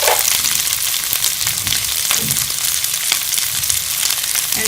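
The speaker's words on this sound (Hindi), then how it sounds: "ये सब्ज़ प्याज कटी हुई ये हम इसमें शामिल कर लेंगे" Chopped spring onions frying in a pan for chicken manchurian give a loud, continuous close-up sizzle with a crackling, hissy texture throughout, with no talking.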